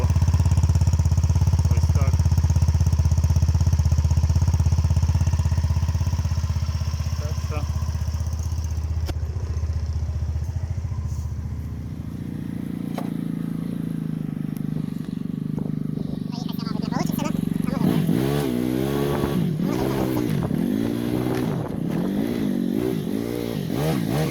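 A Viper cruiser motorcycle engine runs close and loud with a steady low throb, then settles into an uneven idle with rhythmic revving pulses toward the end while someone talks over it.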